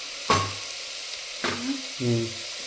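Onions sizzling in a pan for chicken curry, with sharp hisses as they are stirred or tossed, three distinct bursts over a quieter crackling background.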